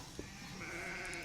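Sheep on a small farm give a single faint, drawn-out bleat against a steady outdoor background, with a brief knock just before it.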